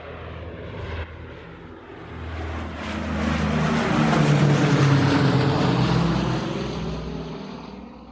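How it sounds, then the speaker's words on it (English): Airplane flying sound effect: a continuous broadband engine roar that swells steadily to a peak midway, then slowly eases off, heard alone with no voices. "Let's go on the plane right now."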